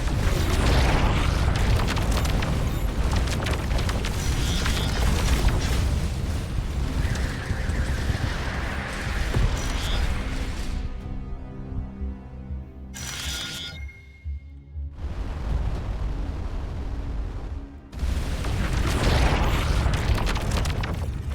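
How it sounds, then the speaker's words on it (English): Missile explosions in the space game Starcom: Unknown Space, heavy booming blasts and roaring bursts that repeat and overlap over about twenty seconds, loud and dense with brief quieter gaps between them. "that was a missile"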